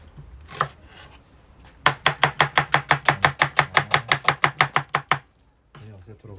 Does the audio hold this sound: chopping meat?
yes